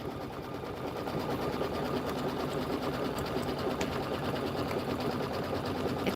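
An embroidery machine stitches a pillow border, a fast, even mechanical whirring patter that runs continuously at moderate loudness with no voices over it.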